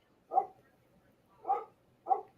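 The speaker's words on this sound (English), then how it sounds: "Damn dogs." Three separate dog barks, moderately loud and fairly close, spaced about a second apart with quiet gaps between them and no talking.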